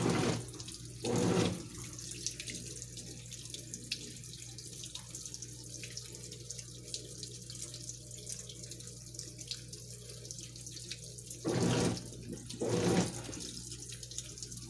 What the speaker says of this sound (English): You can hear the noise the recirculation pump's making